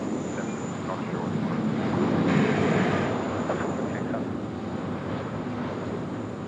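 A China Southern jet lands at Sydney Airport, its engines a steady, distant broadband roar that swells to a peak midway and then slowly eases off, with no voices.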